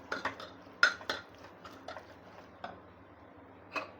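Mutton keema being mixed in a pan, sparse metallic clinks and taps of a spoon against the pan, faint and irregular, with no talking.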